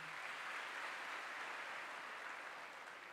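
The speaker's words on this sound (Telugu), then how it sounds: "గట్టిగా చప్పట్లు కొడతారా?" Congregation clapping during a Telugu church sermon, a soft, steady, distant wash of many hands, even and unbroken, with no voices over it.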